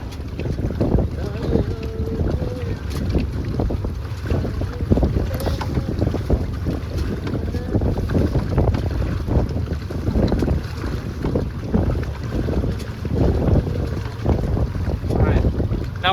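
Steady wind gusting over a sailboat out on the water off Seattle in the evening, constant rushing and buffeting noise with light creaks and splashes, loud and close to the microphone.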